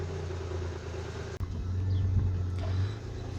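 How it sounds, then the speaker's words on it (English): A 1984 Chevrolet S10 with a carbureted engine, an exhaust leak and a rattling muffler runs at a steady low rumbling idle, heard close with a brief dip and a slight rise in revs. "A little bit of an exhaust leak, and I think the muffler has a bit of a rattle to it."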